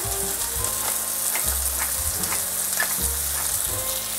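Ground beef patty of 80% lean, 20% fat seasoned with ground peppercorn, sizzling in a hot pan at medium-high heat, steady loud crackle and spit with a few pops and scraping stirs.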